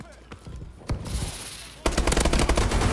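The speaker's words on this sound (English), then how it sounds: "it was funny as I heard two sniper shots come after I killed him" Sniper shots ring out in Call of Duty: Advanced Warfare, a couple of sharp isolated cracks followed by a sudden loud stretch of rapid gunfire, close and heavy.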